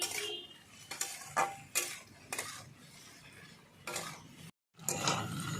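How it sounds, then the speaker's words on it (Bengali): Green banana is stir-fried with spices and salt in a pan, with a spatula scraping and clinking against the metal in repeated close, sharp strokes over a soft sizzle. "এক থেকে দেড় মিনিট ধরে আমি একসঙ্গে কলাটা কষিয়ে নেব মশলার সঙ্গে"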